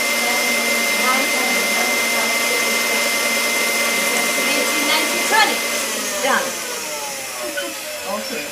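An electric mixer whirs steadily as it beats batter, holding a continuous drone for several seconds with brief clatters near the end.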